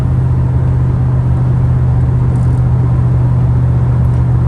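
A Chevy Silverado pickup with a 4L60E automatic transmission and Corvette servo pulls hard under acceleration, a steady loud engine drone and road rumble running throughout, close and continuous, with no talk over it.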